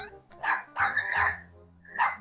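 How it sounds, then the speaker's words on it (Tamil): A dog barks in three short bursts, fairly close, with brief gaps between them. "அங்க வந்த நாய் சுத்தி முத்தி பார்த்து கேட் ஏறி குதிச்சு"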